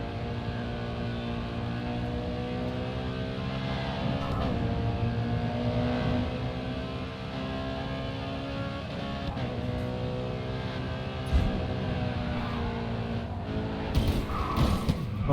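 Race cars in the Grid 2 racing game hold steady engine drones with rising and falling pitch as they overtake, with a brief tire squeal and a sharper burst near the end.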